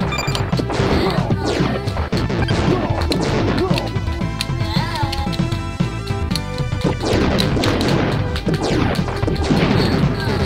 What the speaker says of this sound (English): It was an earth-shattering kaboom.